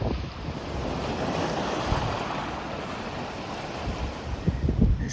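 Waves wash steadily onto a beach below the Seven Sisters chalk cliffs as the tide goes out, a continuous broad surf hiss mixed with wind buffeting the microphone.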